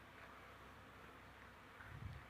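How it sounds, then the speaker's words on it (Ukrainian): A faint, steady buzzing of bees from village beehives hums continuously in the background, low and even, with a slight swell near the end. "бджоли гудуть."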